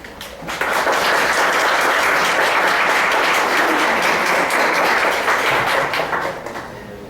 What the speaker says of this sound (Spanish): un aplauso, maestro